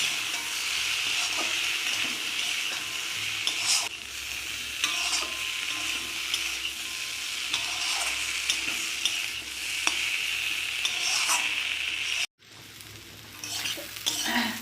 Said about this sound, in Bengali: তো এবারে আরও একটু নাড়বো চাড়বো, এগুলো মশলাগুলো একটু কষিয়ে নেব।